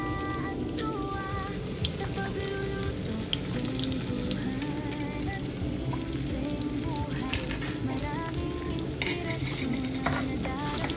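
Bagoong alamang shrimp paste cooking in a pan with garlic, onion and tomato, a continuous busy sizzle with stirring scrapes and scattered clinks, background tones running underneath.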